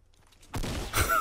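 A gunshot fired during a slide in the Fortnite video game, with a sudden loud burst after a quiet lead-in, followed by a second sharp crack and brief ringing tail.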